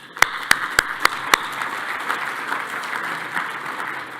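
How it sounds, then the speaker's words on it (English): An audience at a Hilton Hotel event applauds the hotel staff, opening with a few loud, spaced individual claps before settling into a steady, moderate patter of many hands. "Maybe a round of applause for them."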